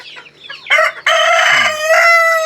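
Native chickens in a backyard cage, with a rooster crowing loudly and close while hens cluck softly at the start, the crow holding steady for about two seconds.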